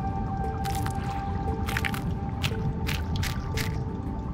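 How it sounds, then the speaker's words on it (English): A fish eating a sea urchin in the video game Feed & Grow Fish: a run of wet, squishy bites and drips comes in short bursts over a steady underwater hum. "Can I eat the sea urchin without you coming along?"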